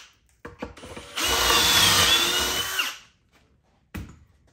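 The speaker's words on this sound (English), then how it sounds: "Take our drill bit." Power drill boring a hole with a drill bit, one steady whir of about two seconds preceded and followed by short clicks and handling noises, close and alone.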